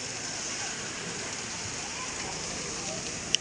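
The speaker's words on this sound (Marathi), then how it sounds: "बघा सगळीकडं पाऊस पाऊस पाऊस पाणी पाणी झालंय" Heavy rain pours down in a dense, unbroken hiss that holds steady throughout, loud and close, with no voices.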